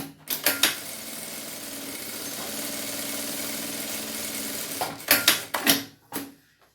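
A sewing machine stitches the bottom of a fabric lining, giving a steady close mechanical hum for several seconds, framed by short sharp clacks and thumps at the start and end.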